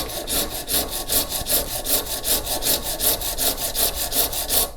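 A hand file rasps back and forth on a bone guitar nut, shaping a chamfer. About fourteen even, close, gritty strokes come in a steady rhythm.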